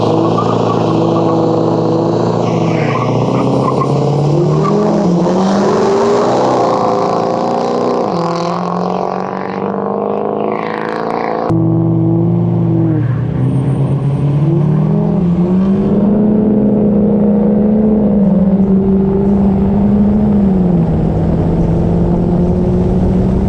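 Diesel trucks roar loudly through a race, engines revving and shifting gears continuously with deep, rising drones, a brief cut midway, and no one talking over the sustained engine noise.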